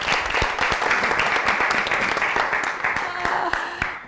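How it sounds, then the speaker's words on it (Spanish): An audience gives Mara a burst of lively applause, many hands clapping together for about four seconds before it trails off. "un aplauso para Mara"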